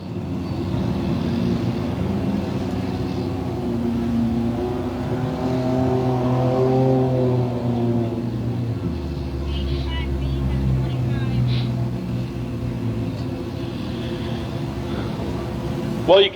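Enduro race cars roar around a racetrack on a Saturday night, a dense continuous drone of engines with rising and falling revs as cars pass, with a voice talking over it.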